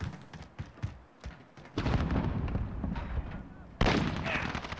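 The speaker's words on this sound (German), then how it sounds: "dass du überall jetzt gerade Schüsse hörst" Rapid bursts of video game gunfire crackle through a dense, noisy soundscape, with a louder cluster of shots near the end.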